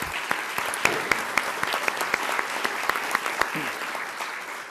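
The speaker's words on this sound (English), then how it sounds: "I think we owe them a little round of applause there" A small audience at a legislative session update in Osceola County, Florida applauds for Valencia College, steady close clapping with distinct individual claps throughout, then tapering off.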